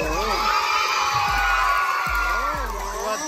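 Schoolchildren at an elementary school cheer and shout together for visiting guests, a loud, sustained crowd roar with whoops that carries through the whole moment.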